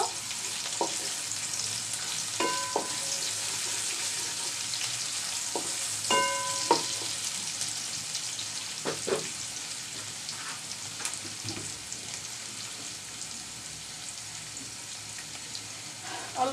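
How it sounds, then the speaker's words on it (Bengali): Garlic and onion frying in oil for a lily flower dish, a continuous close sizzle broken by occasional spoon clinks and stirring scrapes, with no voices. "তাড়াতাড়ি রসুন আর পেঁয়াজটা নরম ভাজা হয়ে যাবে"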